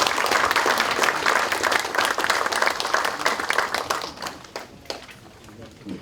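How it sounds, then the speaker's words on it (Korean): Applause at a Democratic Party lawmakers' general assembly, many hands clapping in a dense, loud burst that thins out and fades toward the end, with a voice talking faintly underneath. "그동안 협상을 해오신 우리 홍영표 대표에게 다시 한번 격려의 박수를 좀 보내주셨으면 좋겠습니다."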